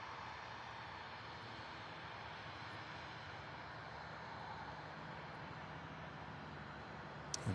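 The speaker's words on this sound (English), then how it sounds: "we have UPS Flight 5525 coming in from Minneapolis in an Airbus A300" UPS Airbus A300 coming in to land at Louisville airport, a steady distant jet engine roar with broadband rumble, faint and continuous throughout.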